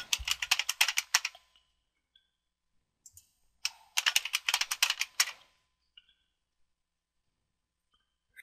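Typing a password on a computer keyboard during a Debian setup, heard as two bursts of rapid close key clicks separated by a pause, with a few isolated taps afterward in otherwise quiet surroundings.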